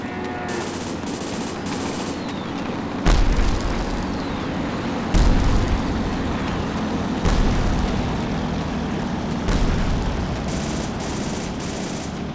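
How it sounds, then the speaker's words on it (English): Video game artillery barrage on a Ranger School map: steady rattling machine-gun fire runs throughout, broken by four heavy explosion booms spaced a couple of seconds apart, loud and close with no talk. "How about an artillery attack?"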